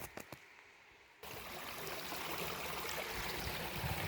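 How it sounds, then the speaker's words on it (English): A small woodland creek flows steadily, its soft continuous babble and trickle starting after a brief quiet moment with a few light clicks, faint and fairly close, with no talking. "crossing this little creek"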